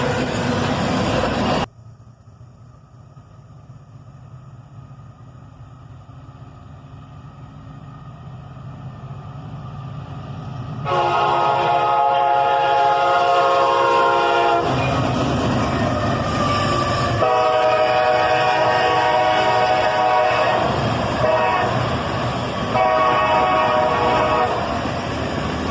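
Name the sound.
EMD SD-43 rebuild locomotive leading a freight train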